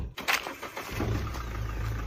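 Mahindra Scorpio 4x4 crawling in 4 low without acceleration, the engine starting with a sharp burst then settling into a steady, close idle-like drone.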